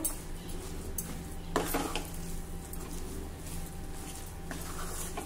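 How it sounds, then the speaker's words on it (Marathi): A sweet mixture is stirred after ghee and cardamom powder go in, with a steady low hum and a few scraping clinks of spoon on pan, one louder knock near the middle. "थोडी वेलचीची पूड, एक वेळा हे पुन्हा मिक्स करून घेऊ"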